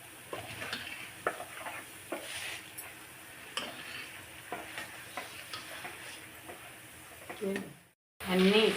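Boondi batter drops frying in hot oil give a steady crackling sizzle with faint stirring clicks, ending in a short silence and then a louder burst of sizzling.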